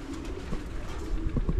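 Soft low pigeon cooing repeats close by over a steady outdoor hum, with no talking.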